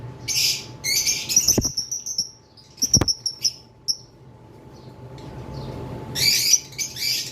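A pair of lovebirds, one opaline and one masked, give sharp, high chirps and squeaky calls in short bursts, with a few thumps and rustles between them and a quieter stretch in the middle.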